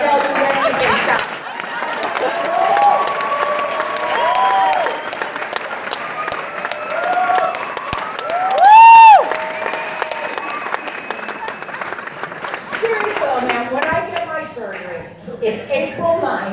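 A comedy club audience at a Syracuse, New York stand-up show claps and cheers in sustained applause, with whoops and scattered shouts, while a voice talks over the crowd noise partway through.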